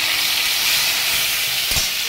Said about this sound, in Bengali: চলো ঢেকে ঢেকে লো ফ্লেমে ভেজে নেবো।